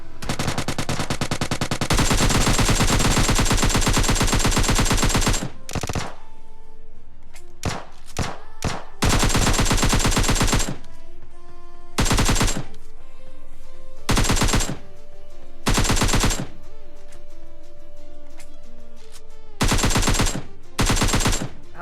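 Bursts of automatic rifle fire from the PUBG Lite battle-royale game, loud rapid volleys in repeated clusters separated by short gaps, with no voices.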